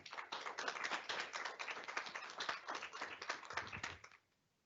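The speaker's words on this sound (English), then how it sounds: "One more round of applause for all of them" Clapping from the audience at a county nurse-of-the-year awards ceremony, a fairly close patter of hands that stays even for about four seconds and then stops abruptly into near silence.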